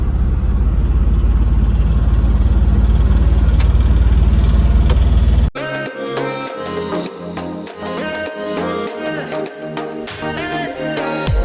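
A car cruising on an open highway gives a steady, loud rumble of engine and road noise for about five seconds before music abruptly takes over.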